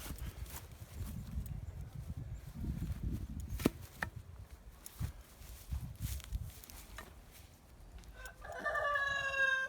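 Chickens in a barn coop cluck and murmur faintly in the background with scattered soft knocks, and a rooster-like call rises near the end.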